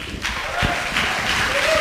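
Audience applause greeting a speaker as he takes the stage at a political organizing event, a steady wash of clapping from a crowd filling the room, continuing evenly throughout.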